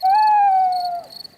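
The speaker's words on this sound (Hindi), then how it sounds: "वो उल्लू है, देखो वहाँ पर।" A cartoon owl gives a single long, smooth, tonal hoot at a campsite at night. It is loud and close, holds for about a second, then fades into a faint trailing flutter.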